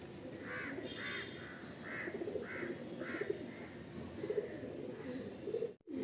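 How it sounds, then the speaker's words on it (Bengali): Kalanka and Lalsira pigeons coo in a loft or sale pen, repeated soft rolling coos in a steady series with other bird calls mixed in, moderately near and without talk. "কালাঙ্কা পায়রা, লালশিরা পায়রা সব দেখলে"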